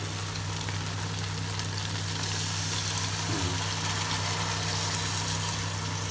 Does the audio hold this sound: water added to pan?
yes